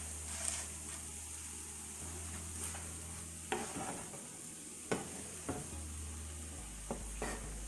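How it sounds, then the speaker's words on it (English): Fresh spinach goes into a hot pan for a plant-based stuffed pumpkin, hissing and sizzling steadily while a utensil scrapes and stirs with several sharp clacks against the pan, close and without talk. "Now I'm going to add my spinach."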